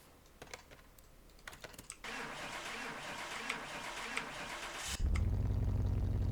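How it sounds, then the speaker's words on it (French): An old Formula 1 car fitted with a replacement engine cranks over after some clicking and fiddling, a rough churning struggle that ends as the engine catches with a deep, loud low roar. "Et maintenant, on va voir si elle démarre."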